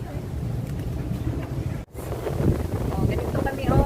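Strong wind buffets the microphone at Palawan Beach on Sentosa, a steady loud roar with one brief dropout midway, while a person talks faintly under it.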